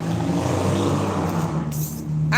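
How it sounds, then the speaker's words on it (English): A loud motorcycle engine revs and roars nearby, holding a steady rumble before its pitch swells briefly near the end. "I don't like the sound of motorcycles."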